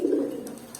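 A large pigeon from a newly bought pair of fancy breeding birds gives a low, soft coo close by, one drawn-out call with faint background hiss and no talk.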